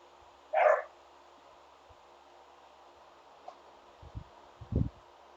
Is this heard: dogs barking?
yes